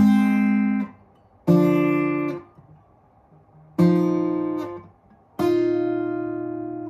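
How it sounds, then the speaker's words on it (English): Four strummed guitar major seventh chords ringing out one after another, each sustained and slowly fading with short gaps between, bright and close. "I'm pretty sure it's just a like a major seven type thing"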